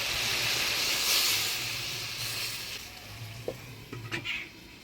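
Vegetables with turmeric, salt and green chilies hiss loudly in a pan as a little water goes in, then the hiss fades and a few clinks sound as a lid goes on.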